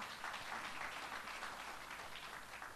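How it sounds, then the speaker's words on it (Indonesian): Church congregation applauding during a Sunday service, a dense, steady wash of clapping from many hands that holds for a few seconds at moderate, slightly distant level, with no speech over it. "Mari berikan tepuk tangan."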